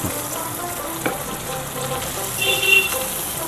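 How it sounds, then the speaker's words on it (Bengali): Chilli chicken (morich murgi), a Bengali dish, sizzles and fries steadily in a pan as it is sautéed, with a few stirring clatters and a brief louder hiss near the end. The sound is close and continuous, and no one speaks. "এবার এটাকে আমরা কষিয়ে নেব"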